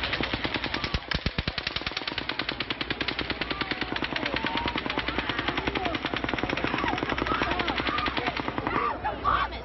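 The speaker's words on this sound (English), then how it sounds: "But then, a sixth burst of fire." Sustained automatic gunfire from the Las Vegas shooting, a long, dense, rapid rattle of shots that keeps a steady rhythm for nearly ten seconds, loud but distant and echoing, with faint voices near the end.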